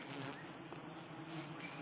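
Forest bees swarming around a wild sialang tree honey nest give a steady, faint droning buzz that continues without break, with outdoor forest ambience underneath.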